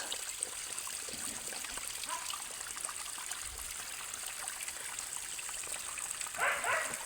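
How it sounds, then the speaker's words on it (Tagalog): Strong water from a large mountain spring rushes steadily and continuously at close range, a broad hiss with a brief louder swell near the end, and no one speaks. "Napakalakas ng tubig guys."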